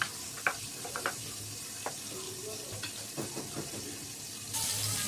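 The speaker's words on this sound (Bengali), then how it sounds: "বেগুনটা আমার ভাজা হয়ে গেছে" Eggplant frying in hot oil gives a low, steady sizzle, broken by a few sharp clicks and taps of a utensil against the pan, with no talking.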